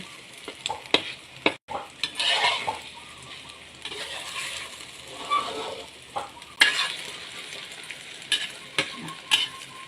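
Garlic sizzles and fries in a hot pan while being stirred, with scraping and clinking utensil strokes over a steady crackle throughout, no talking.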